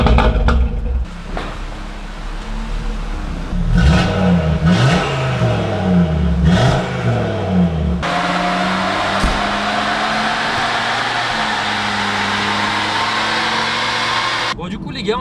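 An Audi RS3 400 engine revs repeatedly from inside the car, rising and falling in pitch several times before settling into a sustained high drone, with voices talking over it.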